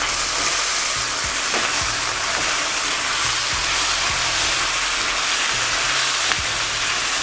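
Noodle ingredients seasoned with salt and MSG sizzle and fry in a hot pan, a dense steady hiss with occasional scraping stirs and clinks, close and loud with no talking.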